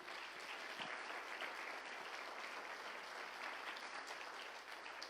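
A church congregation applauds loudly and steadily for about five seconds, a dense, even wash of clapping with no voices standing out.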